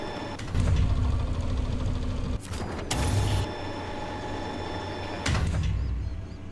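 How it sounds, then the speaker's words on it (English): A seismic vibrating device in the video game Expeditions rumbles with heavy low mechanical pulses, loud bursts starting and stopping a few times over a creaking, engine-like drone. "Start seismic vibrating."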